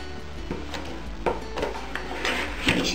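A lid set onto a pot, heard as a few close metallic clinks and knocks scattered over a few seconds, with soft handling noise between them.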